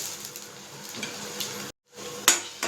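Ginger garlic paste sautéing in a pan for cauliflower masala: a steady close frying sizzle with scraping stir strokes, a brief drop to silence midway, then sizzling resumes with a sharp clink.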